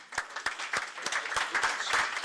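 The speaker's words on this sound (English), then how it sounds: "Round of applause." Audience applause closes a talk at a committee meeting, with a handful of sharp individual claps rising into a steady, moderately loud patter that lasts about two seconds, with no voices over it.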